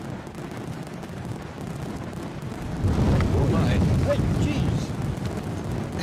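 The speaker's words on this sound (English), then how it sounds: "Fireworks are exploding." Fireworks explode outdoors on a windy night near Edinburgh Airport. Deep rumbling booms swell over gusting wind noise in the middle, while people exclaim in surprise.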